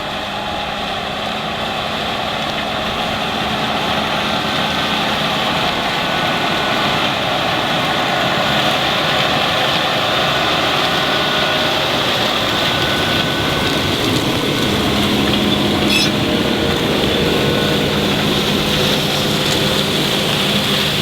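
Steady, loud drone of a Case IH 355 Magnum Rowtrac tractor engine at work during fall tillage, heard from inside the cab as an unbroken rumbling hum with a constant roar of noise and no pauses.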